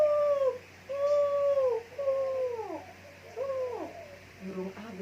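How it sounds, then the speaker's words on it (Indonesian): Birds called ababil, heard as repeated tonal whistling calls in short phrases that glide and fall, fairly close, over a steady low hum. "burung ini bernama burung ababil"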